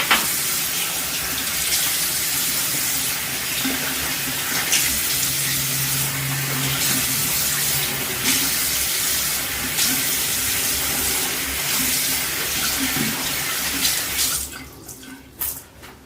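A sink tap runs steadily to rinse a razor during a shave, a loud, continuous hiss of flowing water that cuts off near the end.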